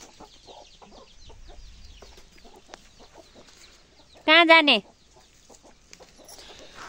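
A chicken lets out one loud, brief clucking call near the middle, close by, with quiet talk and faint background sounds around it.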